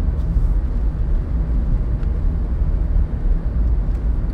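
Road traffic behind a garbage truck in a lane of moving cars: a steady, close, low engine and road rumble that continues without a break and carries no talk.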